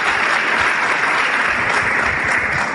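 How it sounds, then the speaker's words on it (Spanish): Loud, dense applause from a seminar audience fills the whole clip as one continuous, close wash of clapping with no talk. "Vale, un aplauso tremendo"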